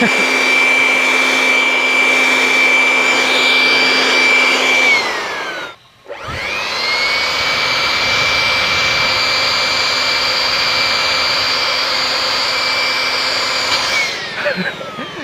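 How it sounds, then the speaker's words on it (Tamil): Air blower pushing mist water droplets from a homemade misting cooling system, a loud steady whooshing roar that cuts out briefly, then spins back up and runs on before fading. "இப்போ என்ன பண்ண போகிறேன்னா ஏரோப்ளவர் வச்சு அப்படியே அடிக்க போகிறேன் அந்த துளியெல்லாம் பறக்கும்ல"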